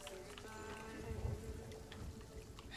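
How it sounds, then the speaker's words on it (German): Rain in the pirate video game Sea of Thieves, a faint steady patter of drops with a soft low rumble and scattered splashes, quiet and continuous. "Weil es regnet."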